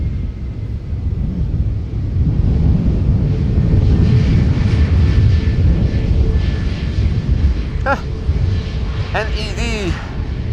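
Loud airliner landing at Amsterdam Schiphol Airport, a steady heavy engine roar filling the whole stretch with a rising whine near the end, voices faintly audible beneath.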